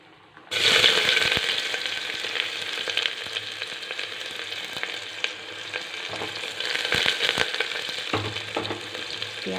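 Onions sizzle loudly in hot oil after cumin seeds, a steady close crackle with occasional stirring scrapes, running continuously from a sudden start.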